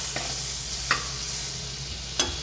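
A little butter sizzles in a small amount of oil in a frying pan during Chinese-style chicken fry cooking. A steady soft hiss runs throughout, with a few brief scrapes or taps of a utensil against the pan.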